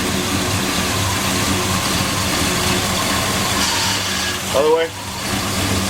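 A car engine cranked and left running during a leak test after a repair, a steady close rumble throughout with a brief squeal near the end and a short spoken instruction over it.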